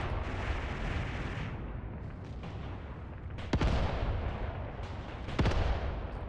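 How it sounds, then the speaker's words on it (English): Mortar fire in the war game Mius Front rumbles as heavy, deep booms, with two sharp, louder blasts standing out over a constant low battlefield roar. "let's get some more mortars going"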